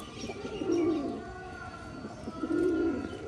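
Two low, rolling pigeon coos, one early and one near the end, close by and fairly loud over a soft background hum.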